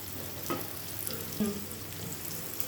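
Pea curry (matar) with green chillies frying and being stirred in a pan: a soft, steady sizzle with faint scraping stir strokes, quiet and close, with no voices.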